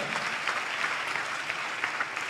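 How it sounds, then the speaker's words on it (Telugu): A congregation at a Telugu Christian service claps hands together in praise, a steady, dense patter of many hands sustained throughout at moderate volume. "చప్పట్లు కొడుతూ ప్రభువారికి స్తోత్రాలు చెప్దాం"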